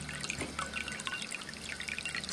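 A ceramic cat water fountain with a copper spout, running on a medium-high flow setting, trickles and splashes steadily at low volume, a soft continuous dribble with no voices.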